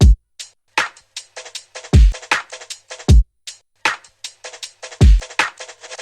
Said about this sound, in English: So I took these kind of open hi-hats that the loop does and just repeated them, and it sounds like this.